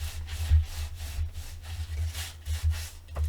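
Fingers rub and burnish glued 6x6 paper pieces for a Halloween mini album, making soft, close, rhythmic brushing strokes repeated several times, faint and without talk.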